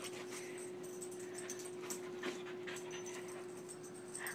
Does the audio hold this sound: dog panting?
yes